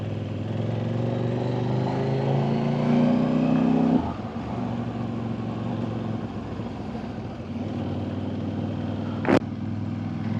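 A big, heavy motorcycle carries its rider along the road, its engine giving a steady, close drone that shifts in tone partway through, with a brief sharp click near the end and no talking.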